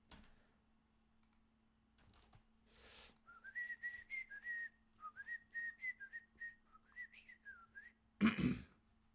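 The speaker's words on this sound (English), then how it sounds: "Oh, sorry, you got to hear me whistling." A person whistles a melodic tune alone at close range, a run of rising and falling notes, during a Magic: The Gathering Arena Lorwyn draft; a short clatter ends it.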